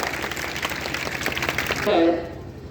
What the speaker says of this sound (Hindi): बहुत ही अच्छा, जोरदार तालियों से स्वागत कीजिए इस चीज का।